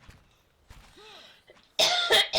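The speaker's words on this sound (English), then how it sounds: "Besides coughing." Coughing from a person during a Pillars of Eternity play session: a faint throat sound first, then a burst of two or three loud, close coughs at the end.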